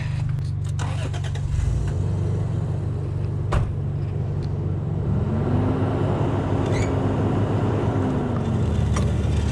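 An HR Holden Special station sedan's engine idles steadily and close, a continuous low rumble with a slight rise in pitch partway through, while people talk nearby.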